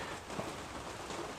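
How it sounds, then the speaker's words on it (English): Steady rain falls outside a workshop in the Waikato, a continuous even wash of drops that stays constant throughout, with no voices over it. "Excuse the wonderful Waikato rain shine in the background there."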